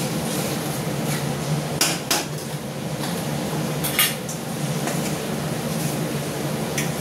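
Raw meat goes into a pot during home cooking for an Independence Day meal, with a steady cooking hiss and several sharp clinks and clatters of metal utensils against the pot, no talking.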